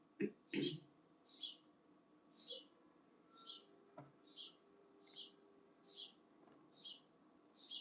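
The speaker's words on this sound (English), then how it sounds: "You hear the birds." Small birds chirp outdoors in short, regular calls, spaced roughly every half second to a second. The calls are faint and distant against a quiet background, with a couple of louder close knocks at the start.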